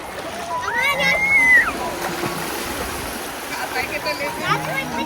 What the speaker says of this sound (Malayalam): കുട്ടികൾ അവർ വെള്ളത്തിലേക്ക് ഇറങ്ങി കളി സ്റ്റാർട്ട് ചെയ്തിട്ടുണ്ട്